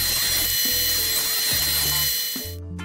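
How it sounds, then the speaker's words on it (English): A power drill pre-drills countersunk holes in ripped pine slats for a rebuilt wooden footrest, a loud steady whirring run with brief pauses and restarts, ending with a sharp cut-off near the end. "pre-drilling the holes for those slats"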